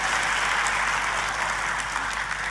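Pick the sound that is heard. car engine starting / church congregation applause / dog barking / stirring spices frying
church congregation applause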